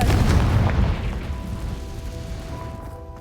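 A Confringo fire spell explodes in the video game Hogwarts Legacy, a loud boom that fades into a low rumble over about three seconds.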